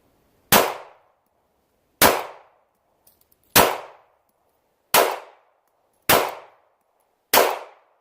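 Six sharp, loud pistol shots from a Glock 19 Gen 5 at a shooting range, spaced about a second and a half apart, each cracking out and fading quickly, with a few faint clicks between them and no talking.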